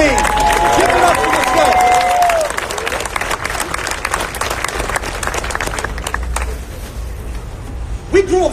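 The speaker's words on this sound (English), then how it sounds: "a bigger round of applause for every single one of you that came out intentionally to get this game" An audience at a real estate seminar claps and cheers loudly, a whooping voice rising over the start of the dense clapping before it settles into steady applause with crowd murmur.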